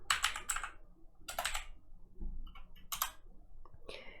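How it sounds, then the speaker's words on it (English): Typing on a computer keyboard in a few short bursts of close, crisp key clicks separated by brief pauses, quiet and without talk. "Okay, type your name. Let's type George."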